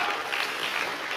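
A church congregation applauds after a sermon line, a brief, even burst of many hands clapping that fills the whole moment with a steady hiss-like patter and no talk.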